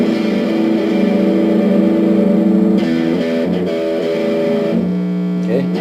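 Electric guitar played through a Boss MD-2 Mega Distortion pedal with the gain set high, giving a thick, saturated, sustained tone. Held chords and bending notes ring loud and close, with no pauses and no talking.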